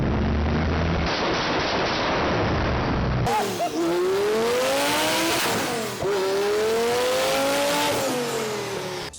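A 2008 Lamborghini Gallardo Spider with a custom twin-turbo system starts behind a burst of loud broadband rushing, then revs up and down repeatedly in strong, close swells with steady exhaust roar between the pulls.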